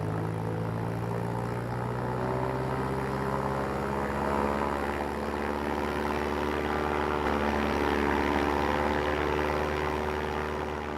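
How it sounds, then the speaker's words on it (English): Piston engines of B-29 bombers roar steadily on takeoff from Chengdu, a loud continuous drone with strong low propeller harmonics holding for the whole stretch, no voices. "17 B-29s took off from Chengdu."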